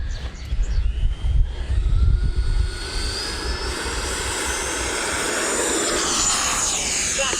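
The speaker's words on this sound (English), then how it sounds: "All right, getting ready for our takeoff roll." A Freewing F-5N Tiger II 80mm RC jet with flaps at 50 starts its takeoff roll, a loud close ducted-fan whine that rises steadily in pitch over low rumbling runway noise.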